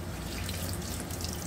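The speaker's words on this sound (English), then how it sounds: "Hold on, you're going to hear water." Steady water runs from a tap into a sink, a constant close wash of flow with no breaks and no voices, during hair dyeing at home.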